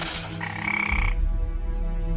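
Cane toad croaking in Australian wetland, its call a steady low droning trill that swells midway and carries on alone, fairly close and loud.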